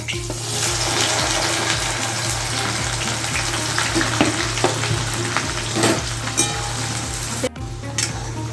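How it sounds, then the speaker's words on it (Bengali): Whole spices and chopped onion fry in hot oil for a Bengali chicken kosha, a steady loud sizzle running throughout with occasional stirring clicks and scrapes, no voices. "তো আমি এই তেলে গোটা মশলাটা দিয়ে দিচ্ছি। এখানে আমার দুটো পেঁয়াজ কুচি আছে, আমি পেঁয়াজ কুচিটাও দিয়ে দেবো।"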